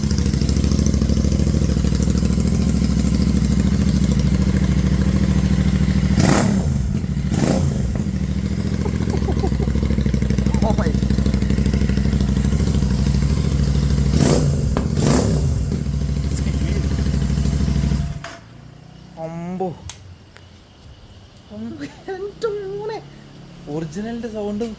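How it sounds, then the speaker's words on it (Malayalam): A 650 twin motorcycle engine runs close by with no exhaust fitted, a loud raw, rough idle with a few sharp revs. Partway through it cuts off, and people then talk excitedly. "ഒറിജിനലിൻ്റെ സൗണ്ടും എക്സോസ്റ്റ് ഇല്ലാത്ത സൗണ്ട്"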